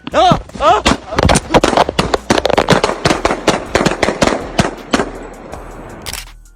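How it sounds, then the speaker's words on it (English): Rapid automatic gunfire from a gun fitted with a switch, a dense string of loud sharp cracks in quick bursts lasting several seconds, with a voice calling out between shots. "The audio sounds like they were using a switch because that rate of fire was insane."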